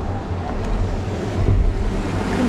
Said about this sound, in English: So this is the weir. The water enters in through it